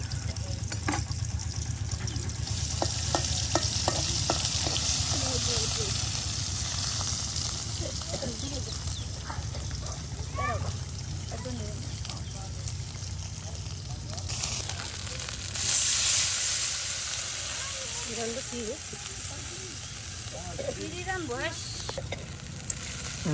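Dried fish sizzles and crackles in a pan of spices for a taro-leaf curry, with a steady close frying hiss, occasional stirring scrapes and some talking.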